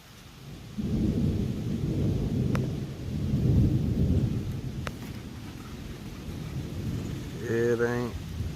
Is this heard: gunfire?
no